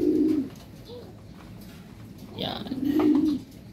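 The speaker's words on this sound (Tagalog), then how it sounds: "ang ating mga ibon" Pigeons or doves cooing close by, two low rolling coos with soft chirps between, while someone speaks briefly over them.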